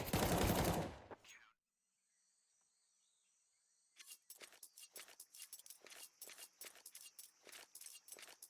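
Rapid bursts of automatic gunfire in a competitive Counter-Strike match on the Ancient map: a loud blast, a brief lull with a thin electronic tone, then a dense, sustained run of sharp shots.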